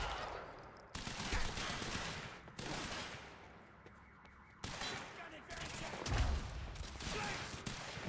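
Machine gun fire in the video game Quantum Break, loud sustained automatic bursts in several long stretches separated by brief pauses, with a voice talking faintly.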